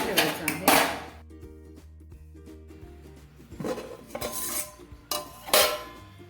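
A metal lid clatters onto a pot of semolina ladoo mixture in loud, close bursts of clanking, separated by a quieter lull.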